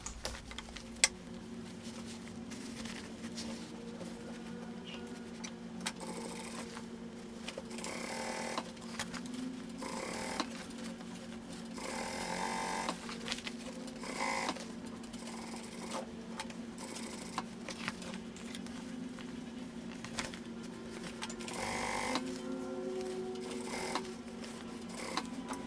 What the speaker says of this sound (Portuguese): E aí vamos passar uma costura aqui, ó, na volta toda, pra poder prender o forro à parte principal.